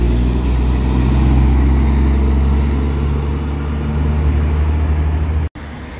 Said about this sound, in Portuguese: o carro aí que tá indo agora é um New G7